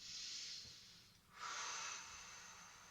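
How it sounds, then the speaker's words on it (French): Deep breathing during a Pilates stretch over a large gym ball: two long, airy breaths, a slow exhale then a stronger inhale, close and soft with no talking. "Quelques respirations."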